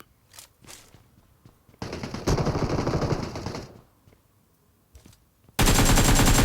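Gunfire in PUBG Mobile: a few faint single shots, then a loud sustained automatic burst lasting about two seconds, more scattered shots, and another loud burst at the end. Close and dominant, with no talk.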